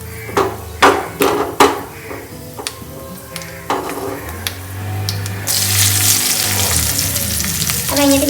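Fenugreek seeds fry in a pan for a green turkey berry (sundakkai) kuzhambu. A few sharp knocks come first, then a loud, dense sizzle swells up and carries on steadily.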